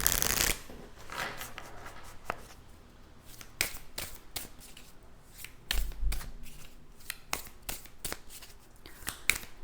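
Tarot cards shuffled and drawn by hand, a close run of crisp riffling and flicking bursts with soft pauses between them, with no speech over the cards.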